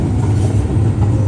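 An MBTA Green Line Extension train on the Medford branch rumbles steadily past a station platform near Lechmere, a continuous low rolling drone heard up close with no talking.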